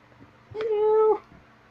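A cat gives a single clear, drawn-out meow at close range, with faint room noise before and after.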